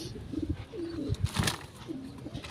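Several pigeons coo softly in a loft, low throaty calls repeating in uneven bursts close by, with faint shuffling and a brief flutter mixed in.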